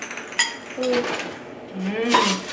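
A metal spoon knocks and clinks against a cooking pot of Haitian bouillon, a few bright ringing taps spread over a couple of seconds while voices speak nearby.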